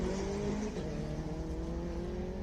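A Honda VTEC car accelerates up the course at Simola Hillclimb, its engine note climbing steadily, moderately loud with a continuous rising whine.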